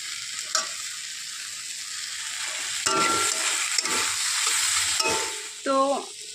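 Vegetables fry in a pan with a steady, close sizzle, broken by scraping stir strokes and occasional clatter of a utensil against the pan; no one talks.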